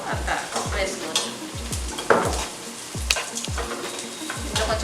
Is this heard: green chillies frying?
yes